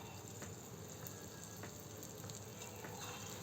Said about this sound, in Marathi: तेल गरम झालेलं आहे. आता आपण गुलाबजामुन घालू.